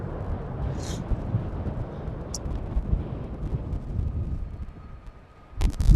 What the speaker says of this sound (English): one of the many A330s from Delta Airlines taking off